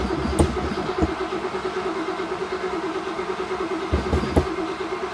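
1963 Oldsmobile engine with a new electric fuel pump cranking, a steady rhythmic churning drone with a few heavier thumps, fairly close and without talk.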